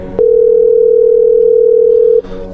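A steady telephone ringback tone heard while a call is being placed to a talk radio line, one continuous loud tone lasting about two seconds before cutting off into faint background noise.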